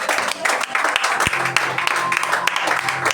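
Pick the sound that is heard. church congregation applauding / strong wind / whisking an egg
church congregation applauding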